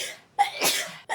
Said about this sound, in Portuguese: Se eu ficar espirrando, fungando,